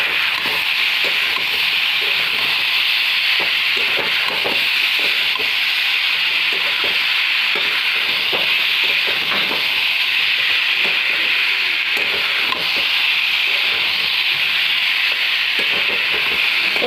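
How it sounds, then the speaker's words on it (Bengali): Jackfruit and potato curry sautéing in a pan, a loud, steady sizzle running throughout, with rhythmic scraping and rubbing strokes of a spatula stirring it, close by and with no talking. "এইভাবে আমি কষবো অনেকক্ষণ"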